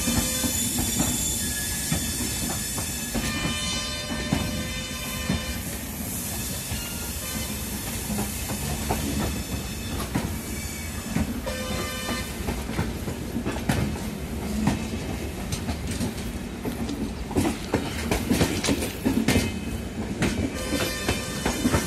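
Santragachi–Pune Humsafar Express passing over the diamond crossing at Nagpur Junction, with continuous rumbling wheels, rhythmic clickety-clack over rail joints and high wheel squeal, loud and close throughout, with no talk.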